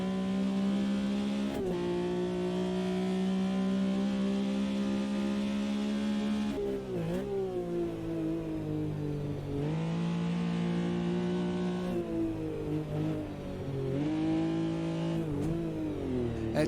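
A Porsche race car engine in the AMS2 racing game is worked very hard, a continuous loud revving drone with repeated gear shifts and dips in pitch as it climbs and falls across the run.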